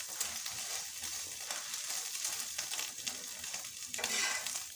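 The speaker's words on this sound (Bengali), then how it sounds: "আমি এর সাথে আমার হাজব্যান্ডের জন্য একটা ডিমও ভেজে নিচ্ছি" An egg fries in a pan, a close, steady crackling sizzle with sharper pops and spatters, alone without voices.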